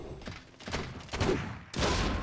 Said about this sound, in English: Good volley from the mortars to start things off on the Dryads